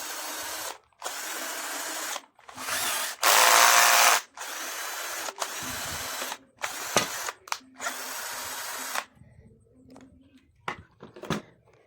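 A cordless drill running on a freshly repacked battery, whirring loud and close in a string of bursts that last one to two seconds each, with short pauses and clicks between them.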